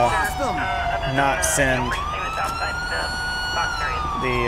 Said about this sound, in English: Other than running the siren for no reason.